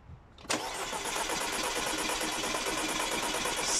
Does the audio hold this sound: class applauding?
no